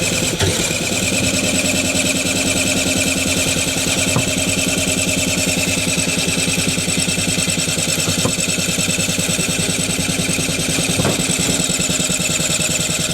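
An abandoned vehicle with no spark cranks without starting, giving a steady, loud, rhythmic churning that drones on for over ten seconds and never catches.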